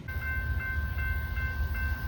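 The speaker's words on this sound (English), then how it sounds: "got an NS train coming up" A Norfolk Southern freight train approaches at a trackside spot, heard as a steady low rumble with a faint tonal ring above it, fairly distant and continuous, no voices.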